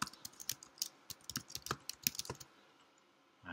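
An email address typed on a computer keyboard: quick, close, irregular key clicks in a short burst, then silence.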